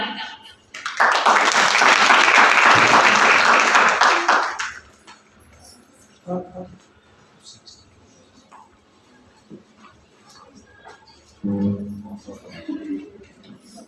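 An audience applauds students at a college lamp lighting ceremony. A loud, steady burst of clapping lasts about four seconds and then stops abruptly, followed by a quiet room with brief bits of speech.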